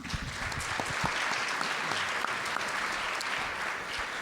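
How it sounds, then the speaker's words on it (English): At an all-candidates debate in Ottawa South, the audience applauds a candidate after a closing statement, a steady, moderately distant round of clapping from a seated crowd lasting the whole stretch. "I think you get 5 more seconds of applause for that because you came under time"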